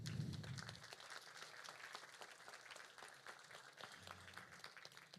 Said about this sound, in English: Big applause once again.